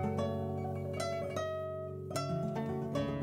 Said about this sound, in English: And if we pitch it up, it's gonna sound like this.